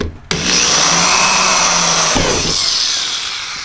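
A power drill bores holes while a Torqeedo Ultralight electric motor mount is installed on a Bonafide SS127 kayak. It gives a loud, steady whining drone for several seconds, starting abruptly and tapering off slightly near the end.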